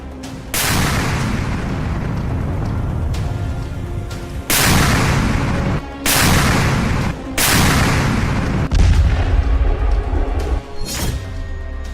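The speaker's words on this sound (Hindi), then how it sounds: "खार्किव में पुतिन का PION मचा रहा है कहर।" 2S7 Pion self-propelled artillery firing, several loud booming blasts in sequence, each a sharp crack followed by a rolling low rumble, with short gaps between shots.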